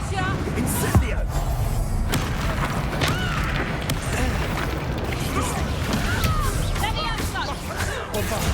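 The Bombard spell bursting during a fast Hogwarts Legacy duel, with heavy, booming impacts and crashes scattered through a dense, steady wash of combat effects, and voices speaking over it throughout.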